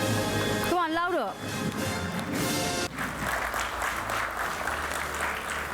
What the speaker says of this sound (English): Let's keep the applaud going till the time the winners don't walk up onto the stage